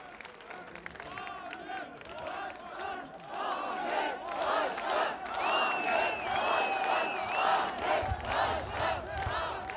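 A large crowd at a political rally for the CHP leader in Kırıkkale, Turkey, roars and cheers continuously, with clapping mixed in and voices shouting over the din, growing louder partway through.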